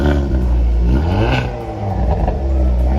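A VW Golf GTI's 2-liter turbo engine revs hard with its exhaust set to Sport Plus, a loud, continuous roar rising and falling in pitch through several sweeps, close and alone with no talk.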